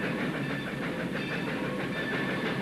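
A train runs along railroad tracks with a steady, continuous rumble and a faint rhythmic clatter of wheels, at fairly close range, with no voices.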